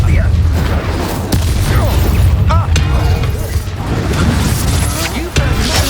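Incendio fire spell cast during a duel in the video game Hogwarts Legacy: booming bursts and crackling blasts over dense, continuous combat noise, with a few sharp impacts.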